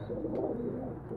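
A domestic pigeon coos softly in one low, murmuring call, close and alone in a quiet loft.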